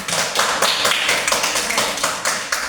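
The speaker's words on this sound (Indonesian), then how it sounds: "Ya, kita tepuk tangan." A classroom of children applauding together, a dense continuous patter of many hands clapping at close range with rhythmic surges throughout.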